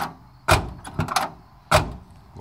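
An older Ford F700 truck door closes after a striker adjustment, giving several solid thuds and a latch click close by, repeated with short pauses between.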